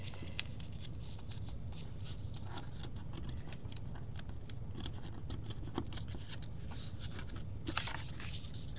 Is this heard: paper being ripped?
yes